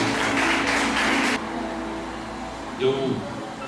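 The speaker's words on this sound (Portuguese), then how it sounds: "vamos aplaudir o Senhor mais uma vez. Isso, aplauda forte." A Sunday church congregation claps together in a burst of dense applause that stops after about a second and a half, leaving a quiet room with a brief voice toward the end.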